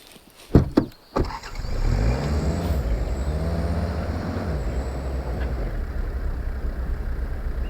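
Car starting and driving in Way of the Hunter, a few sharp clunks from doors or controls, then the engine catches and settles into a steady rumbling idle that rises and falls as it pulls away, close with no talk.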